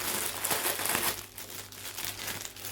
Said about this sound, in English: Everything is in these plastic bags and it's just a little hard to undo them